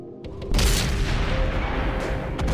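An artillery tank in World of Tanks fires a single heavy boom that rolls into a long, loud rumbling blast, a further low thump near the end.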